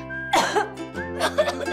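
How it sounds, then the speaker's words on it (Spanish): A single person coughs close up, two harsh bursts about half a second apart with nothing else heard. "Sale la tos, pero la flema no."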